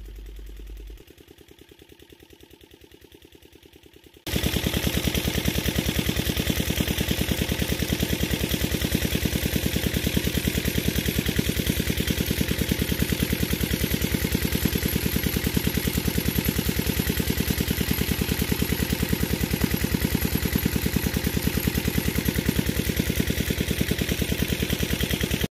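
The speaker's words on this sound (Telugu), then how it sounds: "ఈ మోటార్ మనకి మెయిన్గా డీజిల్తో నడుస్తుంది." A diesel-powered motor for a village fish pond dig starts after a few quiet seconds, then runs loud and steady with a continuous mechanical clatter, close by and unbroken for the rest.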